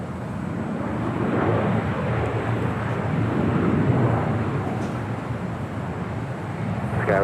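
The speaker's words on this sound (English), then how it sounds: "Next arrival on 24 right on the north side, Southwest Airlines Flight 2068 coming in from Houston" A Southwest Airlines Boeing 737-800 arriving on runway 24R at Los Angeles International Airport, heard as a steady, broad engine roar at moderate distance with some wind buffeting, continuous throughout with no talk.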